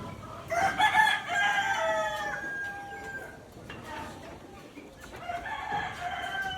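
Chickens and a rooster at a poultry spot: a rooster crows loudly twice, with a later crow fainter, amid scattered clucking and a busy background murmur.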